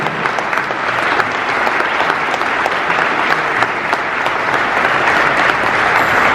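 Conference crowd at a freedom event in Scottsdale, Arizona claps loudly, a thick, even wash of many hands sustained for several seconds without a break.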